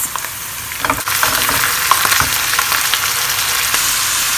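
Boiled spinach and minced meat frying in hot oil give a loud, steady sizzle with scattered crackles and a few stirring knocks.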